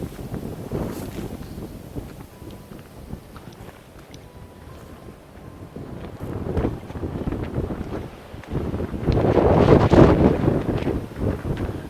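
Wind gusting and rushing through the hollow interior of the Daymark, a stone navigation tower on the coast near Kingswear, Torbay, with steady buffeting that swells into a louder roar near the end.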